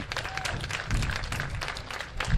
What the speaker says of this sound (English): maybe give yourselves a round of applause if you are in this exhibition